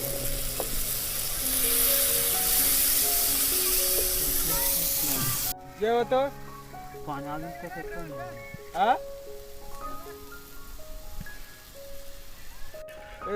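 Water poured into a hot pan of slightly burnt chicken sets off a loud hissing burst of steam that cuts off suddenly and gives way to quieter bubbling, while people talk nearby.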